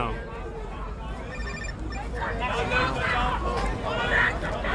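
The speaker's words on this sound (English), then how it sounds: "Somebody's blowing up my phone right now. I really need them to stop calling." A mobile phone rings with incoming calls during a live outdoor protest in Atlanta, its ringtone chiming faintly beneath crowd babble and nearby voices.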